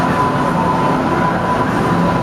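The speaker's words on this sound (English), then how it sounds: "And here comes another train right after that train." A Boston subway train rumbles steadily nearby in a station, a continuous loud low rolling drone with a faint steady whine above it and no voices.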